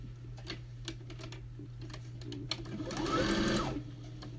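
A home sewing machine runs a short burst of stitching after its bobbin is rethreaded during quilt piecing, a steady mechanical whir rising for about a second over a constant low hum, with light clicks and taps before it.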